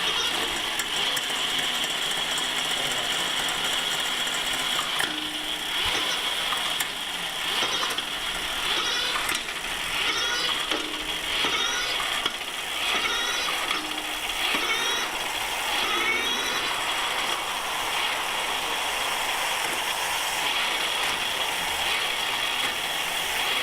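A Biktrix eBike drivetrain spins on a stand with a steady mechanical whir, and a series of rhythmic ratcheting clicks comes as the gears shift down to first and back up, close and continuous with no talking.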